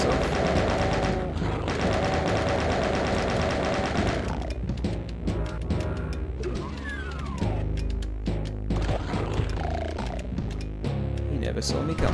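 Rapid shots in the video game Doom played on ultra violence, a quick string of sharp bursts following a stretch of loud music and game noise.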